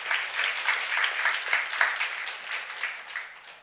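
A church youth congregation applauds during a sermon, a steady wash of many hands clapping at moderate distance, evenly sustained throughout with no talking over it.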